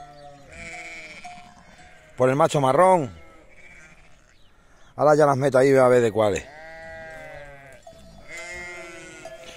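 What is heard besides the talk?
sheep and newborn lambs bleating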